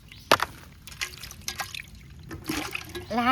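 Water poured out nearby in short, splashy bursts, moderately loud, with a thin trickling stream toward the end.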